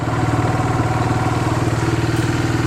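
A four-wheeler ATV idling nearby on a country property, a steady, rough low engine rumble with an even pulsing throb and no talk.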